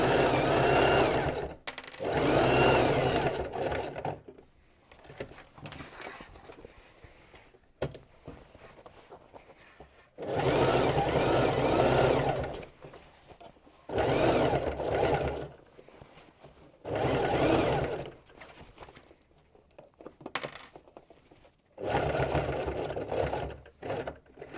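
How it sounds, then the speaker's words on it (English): A sewing machine stitches a denim workwear jacket in several loud runs of a few seconds each, separated by brief quiet pauses for repositioning. "And then we sew it shut."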